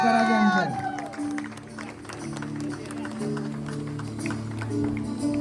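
Guests applaud and cheer at an engagement ring ceremony, steady crowd clapping spreading through the room over music and a voice speaking.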